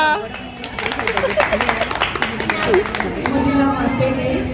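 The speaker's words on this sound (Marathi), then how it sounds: "अरे टाळ्या वाजवा." Women at a Haldi Kunku gathering clap together in a scattered burst of applause while lively chatter and voices carry on beneath it.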